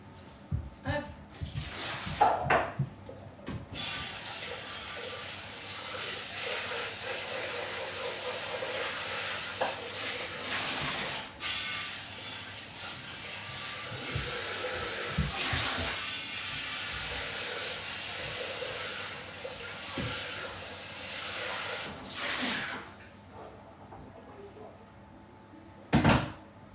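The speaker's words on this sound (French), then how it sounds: "Je vais rincer mon bol" A Thermomix bowl is rinsed under a running kitchen tap, a steady rushing hiss of water with knocks and clatter at the start and end as the bowl is handled.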